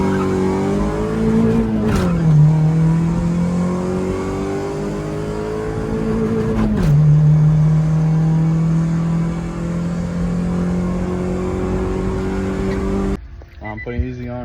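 A small car engine of about 80 horsepower revs hard and loud close by, climbing and dropping in pitch twice before holding a steady high drone, then cutting off abruptly near the end.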